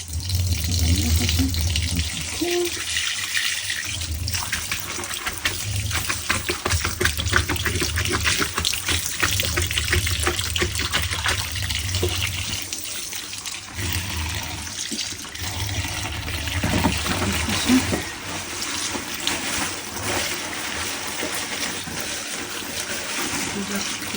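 Kitchen tap running continuously into a sink while a pot is rinsed, a steady close splashing rush with small surges and clatters, a voice speaking intermittently over it.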